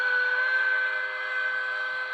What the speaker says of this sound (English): why does my RDC make steam whistle noises?